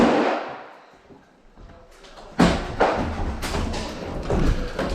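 An airsoft grenade drops onto the ground outdoors during an airsoft game, landing as a dull close thud followed by scuffling impacts, with a noisy burst fading at the start.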